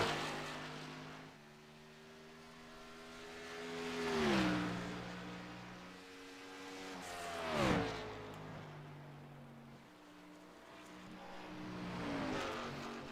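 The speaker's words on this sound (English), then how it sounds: "starting his hot laps in that number 4 Mustang" Ford Mustang race car engine on hot laps in a racing video game at Phoenix Raceway, with several loud revving passes that rise and fall as the car sweeps by, gear-change pitch drops, and no talk.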